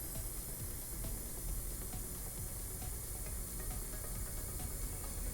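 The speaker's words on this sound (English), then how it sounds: "I'm just going to spray this into there." Spray paint hisses steadily from an aerosol can into a paint roller liner, a continuous close airy spray with no pauses or talk.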